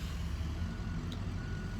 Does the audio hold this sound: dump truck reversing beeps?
yes